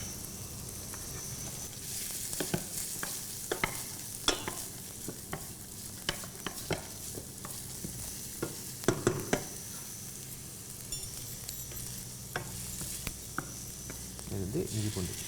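Mustard seeds, onion, cumin and curry leaves sputter and sizzle in hot sesame oil and ghee, a steady crackling fry with scattered pops and spoon stirs, close to the pan.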